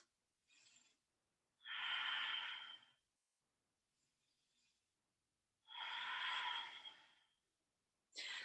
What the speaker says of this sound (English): 2 big deep breaths